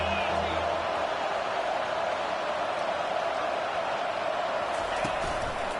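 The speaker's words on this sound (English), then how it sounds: "Decibels rising as the crowd gets behind this defense on 3rd down." Dense football stadium crowd roar at a college game on third down, a steady loud wash of cheering and noise that holds throughout, with a commentator talking over it.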